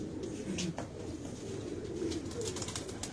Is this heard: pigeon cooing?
yes